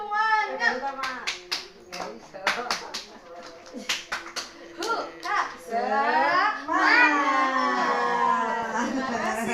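A group claps a rhythmic spirit clap in a family development session, sharp claps in quick patterned bursts mixed with shouted voices and chanting, ending in sustained group cheering.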